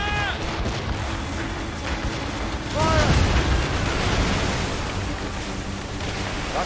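Ship cannon fire in the video game Assassin's Creed Rogue, a deep rumbling boom swelling midway through over a constant roar of sea and battle noise, with shouting voices mixed in.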